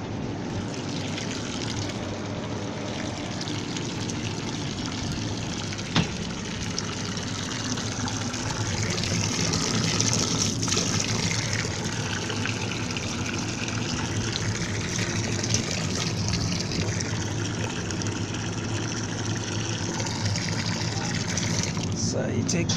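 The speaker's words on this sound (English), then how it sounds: "Bucket fill up." Water gushes steadily from a hose into a bucket while cleaning an ale line, a continuous rushing fill that stays even throughout with a few small knocks.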